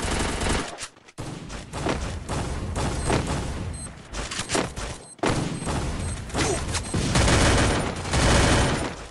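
Near-continuous bursts of rapid gunfire from the battle royale game Free Fire, loud and dense, with brief pauses between volleys and clattering mechanical effects.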